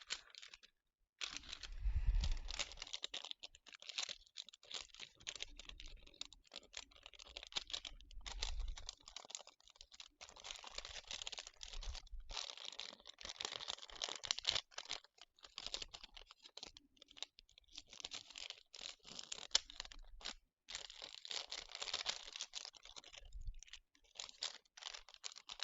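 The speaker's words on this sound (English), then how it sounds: "once again we are folding these flaps inside" Paper flaps being folded and pressed down for a handmade planner craft, with close crinkling, rustling and soft crunchy handling sounds in irregular bursts, fairly quiet, with no talking.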